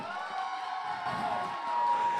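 Applause and cheering from a sangeet wedding audience, a dense, steady wash of crowd noise with shouts and whoops mixed in, moderately loud throughout.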